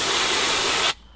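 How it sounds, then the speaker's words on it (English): A compressed air hose blasts a steady, loud hiss while blowing dust off a person, then cuts off abruptly, leaving near silence. "an air hose to clean yourself"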